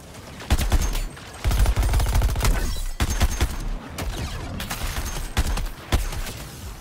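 Bursts of automatic gunfire in Suicide Squad: Kill the Justice League, loud and close, several volleys separated by short pauses, with game effects between them.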